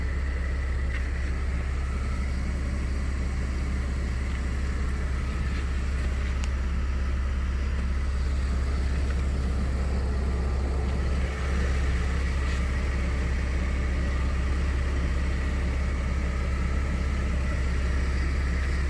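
A 1994 Mercedes-Benz S600 V12 idles with a low, steady, very quiet hum that stays even throughout, with no talking.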